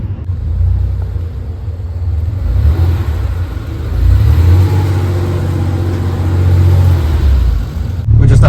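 A Porsche 911 engine rumbles loud and close at low pitch, rising and swelling as the car pulls away, then cuts off abruptly near the end, with no talk over it.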